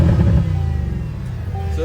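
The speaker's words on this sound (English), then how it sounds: "I'm gonna give y'all some last little revs from the back." A Mercedes C63 AMG S engine revs from the rear of the car: a loud, deep rumble with one sharp rise at the start, then a heavy throbbing idle that carries on alone.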